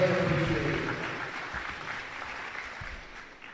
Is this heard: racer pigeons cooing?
no